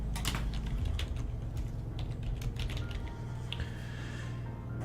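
Rapid keystrokes on a computer keyboard, close and fairly quiet, running as a continuous patter of clicks for several seconds with a few slightly harder taps near the end.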